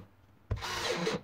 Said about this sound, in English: I'd much rather use a regular drill